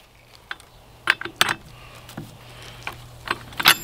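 A wrench snugs a new spark plug into an ECHO CS-501P chainsaw during a tune-up, giving a few quiet, scattered metallic ratchet clicks and ticks with pauses between them and no talking.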